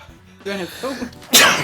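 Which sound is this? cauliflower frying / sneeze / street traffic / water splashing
sneeze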